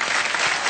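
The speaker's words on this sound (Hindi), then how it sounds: "मैं चाहूंगा कि आप खुद अपने लिए जोरदार ताली बजाएं" Loud, dense audience applause at a Filmfare event, a brief burst of many hands clapping close by.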